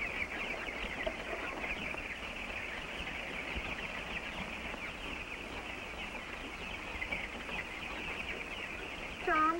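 Chickens on a farm cluck and chatter steadily throughout, a dense, continuous flock noise with scattered higher calls, moderately loud and unbroken.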